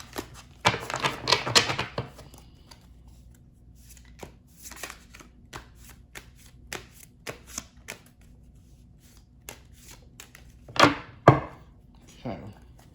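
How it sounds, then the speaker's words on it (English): Tarot cards are shuffled by hand in crisp, riffling bursts: one long flurry at the start, a shorter one midway, and a final loud double burst near the end. Quiet gaps and soft card taps fall between them. "One more shuffle, and then we will clarify."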